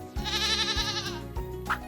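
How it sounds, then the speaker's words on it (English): A goat on a farm lets out a long, wavering bleat, loud and close, with a couple of low thumps underneath and a short, higher call near the end. "¡Es una cabra!"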